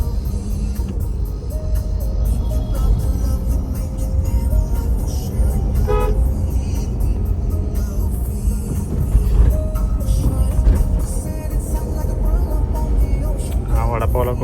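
Busy street traffic with auto rickshaws and cars, horns tooting repeatedly over a steady engine rumble; a person talks throughout.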